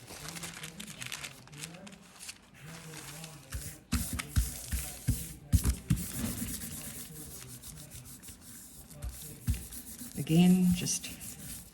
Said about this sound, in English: gentle rubbing, not too hard, but just firmly over the plant so that you get some nice detail